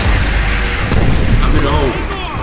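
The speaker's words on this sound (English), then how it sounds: "Look out, grenades." Grenade explosions in Call of Duty: World at War, heavy booming blasts rumbling loud and close, mixed with game noise and someone talking over them.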